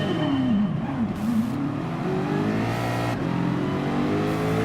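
A Ford GT LM Spec II Gr.3 race car in Gran Turismo Sport revs and pulls hard, its engine note climbing and falling through gear changes in a continuous, close, loud drone with no talking.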